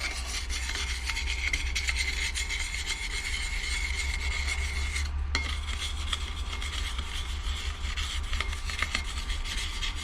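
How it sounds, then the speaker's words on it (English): Steady abrasive rasping against the metal face of a 2017 Jeep Renegade Trailhawk front brake rotor, roughened by hand with a coarse abrasive in place of sandpaper; continuous close scraping strokes with a brief pause midway, no talking. "I don't have rough enough sandpaper, but this does it."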